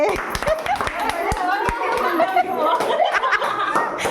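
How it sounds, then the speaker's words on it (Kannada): A group of women applauding the winner of a New Year party game, a burst of scattered hand claps mixed with laughter and lively talk, close and fairly loud. "ಬರಲಿ ಜೋರಾದ ಚಪ್ಪಾಳೆ ನಮ್ಮ ದೀಪ ಅವ್ರಿಗೆ"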